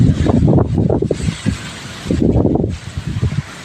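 Strong gusts of wind roar against the microphone in two loud bursts with a brief lull between, close and rumbling, without any voices, in a millet field.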